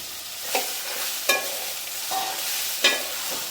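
Dried red chilies sizzle steadily in a hot pan while a utensil scrapes and stirs in several sharp, brief strokes.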